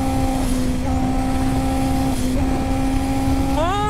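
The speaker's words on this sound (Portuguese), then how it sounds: "Galera, é uma arte fazer a moto pegar 9 mil giros" A motorcycle engine held at high revs near nine thousand RPM, running unevenly, a loud steady whine with pitch shifting in steps and climbing sharply at the end, heard close and alone.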